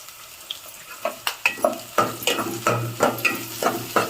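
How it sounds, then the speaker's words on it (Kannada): Hot oil crackles and spits up close as chillies are added for tempering. Sharp pops come in irregular bursts over a continuous sizzle. "ಒಂದೆರಡು ಮೆಣಸಿನ್ಕಾಯಿ ಒಗ್ಗರಣೆ ಹಾಕೊಂಡು ಸಾಕು"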